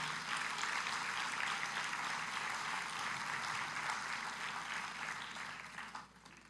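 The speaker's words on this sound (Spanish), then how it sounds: "¿Cuántos le dan un aplauso al Señor?" A church congregation claps together in sustained, even applause that holds steady for several seconds before tapering off at the end, with no speech over it.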